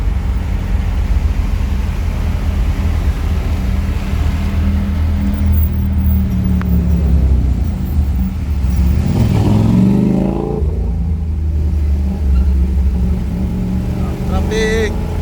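Heavy stop-and-go traffic on the NLEX northbound in hot weather, car engines idling and revving nearby with a steady low rumble, one vehicle accelerating past midway, while someone talks over the noise.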